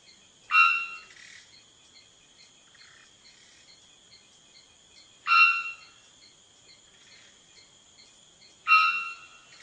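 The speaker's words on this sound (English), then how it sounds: "the 3-wattled bellbird makes itself heard by swelling and contracting the muscles on its neck and back, heaving its chest, opening its beak incredibly wide, and releasing a bonk" Three loud, ringing bonk calls from a three-wattled bellbird, each a short metallic burst a few seconds apart, sounding over a steady high insect drone in otherwise quiet forest.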